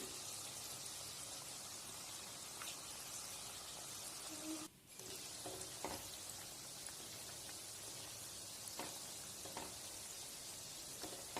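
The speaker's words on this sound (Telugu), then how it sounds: "ఈ పిండిని పకోడీలా వేసుకోవాలి. లైట్గా ఫ్రై చేసుకోవాలి." Gram flour batter drops for motichur laddu are dropped pakoda-style into oil and lightly fried. A steady, faint, rain-like sizzle continues throughout, broken only by a brief dip and a few soft clicks.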